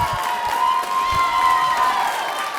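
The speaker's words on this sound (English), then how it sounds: "I appreciate the applause" Audience at a city council meeting bursts into applause and cheering: a dense wash of clapping with shouts and whoops rising through it, sustained across the moment, fairly loud and close-miked in a large hall.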